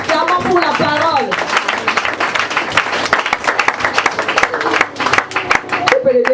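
A church congregation claps steadily throughout, a dense patter of many hands mixed with voices calling out and singing.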